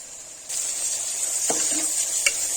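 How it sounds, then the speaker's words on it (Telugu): Ginger garlic paste frying with sliced onions and green chillies in a pan for prawn biryani, a steady close sizzle with a few brief stirring scrapes partway through, no talking. "పచ్చిమిర్చి, ఆనియన్స్ వేగిపోయాక అల్లం వెల్లుల్లి పేస్ట్ వేసుకుందాం"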